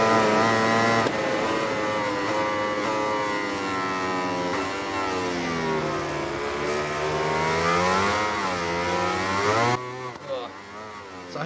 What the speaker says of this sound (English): they just want to hear the bikes in their purest form